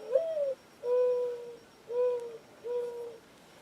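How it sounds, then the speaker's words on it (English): An owl-shaped wall clock chimes the hour at six o'clock with four soft, hollow hoots, one long and three shorter ones, evenly spaced and fairly close, with no voices. "there goes Mr. Owl. It's 6 o'clock"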